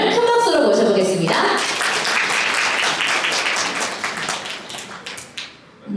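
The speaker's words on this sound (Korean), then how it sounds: "최현정님을 큰 박수로 모셔보겠습니다" Applause from wedding guests welcoming a church friend to the stage to give a congratulatory speech, a dense steady wash of many hands that begins over a fading musical tone and tapers near the end.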